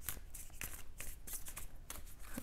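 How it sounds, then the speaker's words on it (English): Tarot cards being shuffled in quick riffling bursts, a soft papery flutter repeating several times, close and fairly quiet. "I'm going to give this one more shuffle here."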